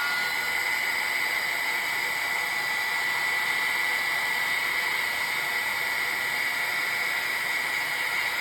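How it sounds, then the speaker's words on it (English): A heat gun blows steadily to dry watercolor, giving a continuous close whirring hiss with a high whine that holds unchanged throughout, with no voices. "And you want to take your heat gun."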